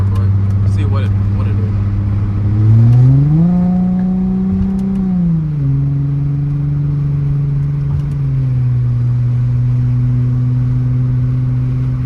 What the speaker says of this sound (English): So I'll just hit the gas like halfway and hit the throttle halfway real quick.